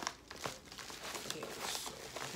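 A big orange Amazon padded envelope holding phone cases is handled, giving soft crinkling and rustling plastic sounds in short bursts, close but quiet.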